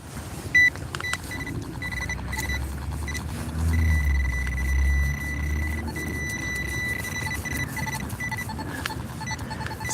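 A metal detector hunting for coins at night gives a steady electronic tone with faint crackle, while a passing vehicle rumbles low in the background midway.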